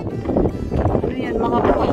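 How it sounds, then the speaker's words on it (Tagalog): Steady outdoor wind rushing across the microphone during a walk, a constant loud roar without pause, with talk mixed in. "Nakaka-relax yung hangin."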